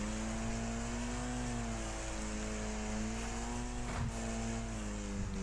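Racing car engine in the Wreckfest video game, a steady loud drone with rising and falling harmonic whine as it holds speed, with a brief scraping bump near the end and no talk.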